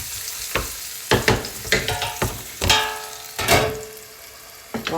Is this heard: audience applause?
no